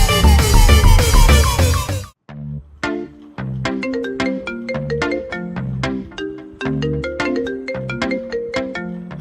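A mobile phone rings with an incoming call, playing a loud, bright melodic tone in repeating phrases. Another loud sound briefly comes before it.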